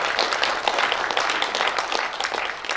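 Sustained applause from a seated audience at a journalists' day award ceremony, dense steady clapping filling the room for the whole stretch without pause.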